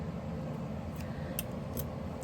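Scissors cutting a nail sticker for a Halloween manicure: three crisp, faint snips spaced a fraction of a second apart over a steady low background hum.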